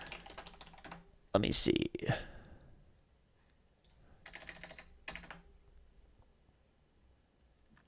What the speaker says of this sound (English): if you type in somebody's name on Twitter, and then you type in keywords